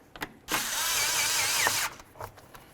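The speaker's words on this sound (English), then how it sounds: "We're going to remove the clamp right here." A power tool whirs loudly for about a second and a half while an intake clamp is removed on a 2006-10 Dodge Charger, bracketed by small clicks and handling noises.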